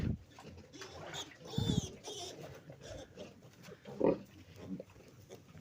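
Piglets squabbling and squealing as they jostle for teats at a nursing sow, with grunts, squeals and rustling that rise into louder bursts, up close in a pen, with faint voices in the background.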